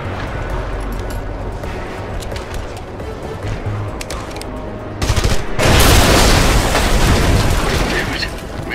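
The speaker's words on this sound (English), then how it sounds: "You can shoot them or set charges to blow them up." Fuel tanks blown up in the video game Red Faction Guerrilla, a loud broadband blast erupting after steady gunfire-like rumble, followed by sustained roaring debris and fire noise.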